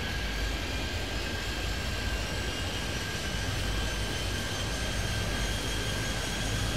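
An airplane takes off in the video game Airport Madness 3D at Kingston, a constant dense engine roar with a thin high whine that holds steady and close throughout.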